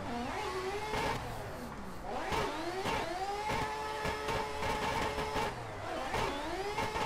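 A Mazda RX8 in the Assetto Corsa racing game drones steadily, its engine pitch climbing and dipping with gear changes and throttle, running continuously with no talk over it.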